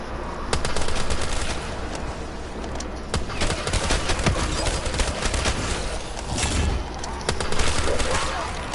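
M14 rifle fire in Black Ops 3 zombies rattles out in rapid, loud bursts of gunshots, nearly continuous with brief gaps, while someone talks over the shooting.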